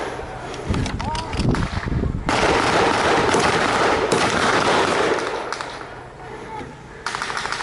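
Blank gunfire at a D-Day battle reenactment at La Fière Bridge, dense loud bursts and cracks crowding together outdoors, with shouting voices mixed through the shooting.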